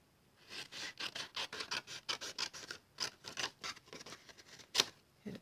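Scissors or a blade rasping through a scrap of Whisper White cardstock, a steady run of short rhythmic scraping strokes, close and fairly quiet with no talk.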